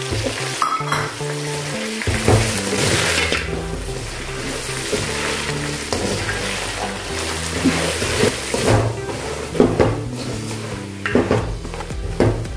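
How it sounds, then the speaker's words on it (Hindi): Curry leaves and roasted chana frying in an oiled pan with dried red chillies for masala makhana, a steady close sizzle with occasional stirring scrapes and light pan clatter throughout. "अभी हमने थोड़ा देर भून लिया है कड़ी पत्ते और फुटाने को"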